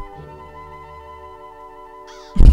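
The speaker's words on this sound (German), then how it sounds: "Die Musik." Soft, sustained tones of background music play in the Toonstruck adventure game, held notes at a moderate level, then cut off by a sudden loud burst at the end.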